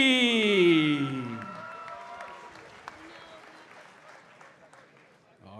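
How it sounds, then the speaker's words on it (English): Crowd applause for amateur MMA fighters at a Clinch FC event, broad clapping that swells then tapers away, with an announcer's voice over the start. "both fighters getting a good round of applause there"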